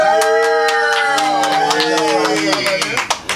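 Crowd cheering and clapping plays as a sound effect, with sharp repeated claps and shouting voices rising and falling over a few seconds, loud and close.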